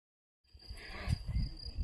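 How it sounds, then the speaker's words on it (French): A small cricket found in a vegetable garden gives a thin, steady high chirp close by, under rustling and handling noises as it is carried and released. "Un petit grillon."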